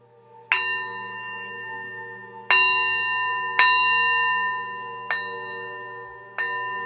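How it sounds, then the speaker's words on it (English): A small bell is struck five times at uneven intervals, each bright, clear ring sounding close and loud before slowly fading in a quiet room. "I'm going to ring my bell"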